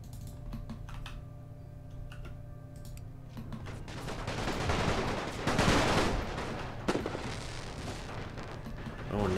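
Artillery barrages thunder in The Great War strategy game, set on the Russian front in 1915. Muffled booms and rumbling blasts build to a loud cluster midway, mixed with sharp interface clicks.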